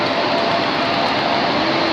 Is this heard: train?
yes